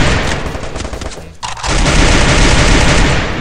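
Loud, dense gunfire in the mobile battle royale game Free Fire MAX: rapid overlapping shots that dip briefly before a sustained barrage of automatic fire.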